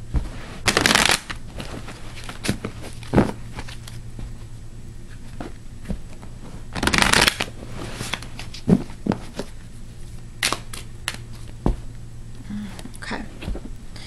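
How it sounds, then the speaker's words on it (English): A deck of angel therapy cards shuffled in a few quick riffling bursts, separated by softer handling, tapping and sliding noises, close and clear. "This is your angel therapy cards. Let's try to shuffle for the air signs."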